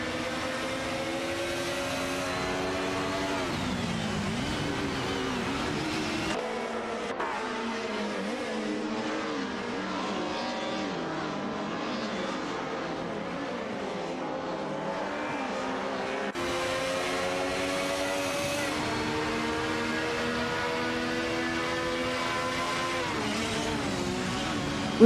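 Race cars driving at speed around a track in an AI racing event, a steady loud engine drone with shifting pitch sweeping up and down through gear changes as the cars run continuously.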